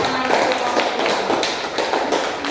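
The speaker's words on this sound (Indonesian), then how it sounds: "Boleh kita beri aplaus untuk kelompoknya" Classroom applause for a student group after a Boyle's law experiment: a steady burst of many hands clapping together, loud and close, sustained through the whole moment.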